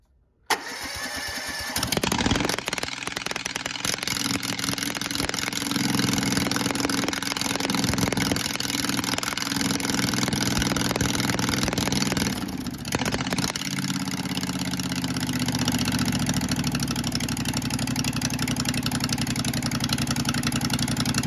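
A Case 1816 engine, freshly installed, cranks and catches, then runs loud and steady for a long stretch, its low rumble settling into an even idle near the end.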